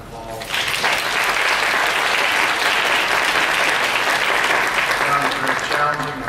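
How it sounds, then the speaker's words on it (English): Audience at a summer leadership conference keynote applauding, a dense, loud and steady wash of clapping that swells in quickly and holds for about six seconds before easing slightly. "I'd like to give them another round of applause."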